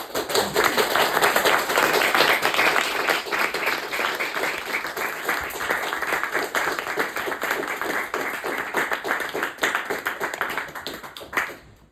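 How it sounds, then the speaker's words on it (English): A cafe crowd in Hamtramck applauds after a book release reading, with a thick wash of many hands clapping at once, loud and continuous before tapering off at the end. "Can we give one more round of applause for Matt?"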